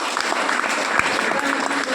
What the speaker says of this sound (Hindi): कुंदन सर के लिए जोरदार तालियां।